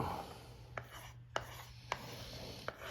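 Quiet scratchy rubbing of a pencil compass drawing a circle on paper, interrupted by four or five sharp little clicks spaced about half a second apart.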